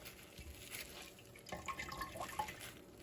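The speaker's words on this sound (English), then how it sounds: "We're just going to squeeze that right into your glass pitcher just like" Carrot ginger juice is squeezed from a drawstring bag into a glass pitcher, making a steady, faint trickle and drip of liquid with soft rustling throughout.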